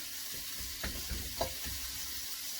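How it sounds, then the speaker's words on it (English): A steady sizzle of beef stir fry made from dehydrated food frying in a hot pan over medium-low heat, with a few soft scrapes and taps from stirring, heard close and on its own. "as long as you're getting a sizzle"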